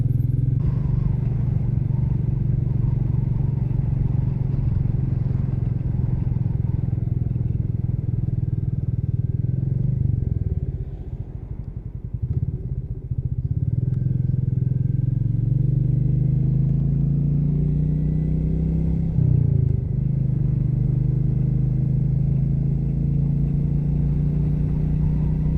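A Royal Enfield Meteor 350 motorcycle is ridden on the road, its engine droning steadily and loudly close up. The note dips briefly twice as the rider shifts or slows, then climbs again, with no talk.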